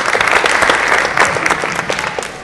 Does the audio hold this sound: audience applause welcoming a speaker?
yes